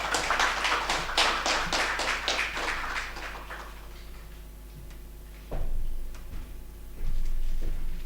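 Applause from attendees at an international automotive manufacturing summit, a crowd clapping that fades over about three seconds, followed by a quieter room with occasional thumps and knocks over a steady low hum.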